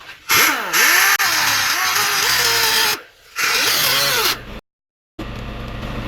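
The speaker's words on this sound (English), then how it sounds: "I'm just gonna try to cut this cage off, and I'm gonna try to cut the race off too." Cutoff wheel slicing through the plastic cage of a wheel bearing on a 2003-2015 Lexus GX470, a loud, steady high-pitched grinding whine running in long bursts, dropping out briefly in between, then ending in silence before a quieter hum returns.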